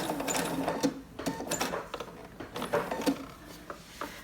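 Sewing machine stitching an elastic waistband along to the side seam, short close bursts of rapid needle chatter with brief stops between them.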